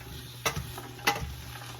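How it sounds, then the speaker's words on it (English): Vegetables and aromatics gently sautéing in a pan, with a low steady sizzle and two distinct stirring scrapes of a utensil against the pan, all close and quiet with no voices. "I'm just gonna now give it a light saute"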